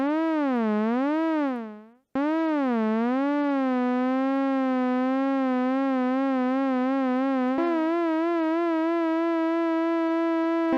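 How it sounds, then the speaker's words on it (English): Synthesizer tone with LFO pitch vibrato: a rich, buzzy sustained note wobbling slowly up and down, cutting out briefly, then returning with a gentler steady wobble and shifting slightly in pitch near the end. "maybe we can use an LFO to modulate the pitch again and give it like a bit of vibrato"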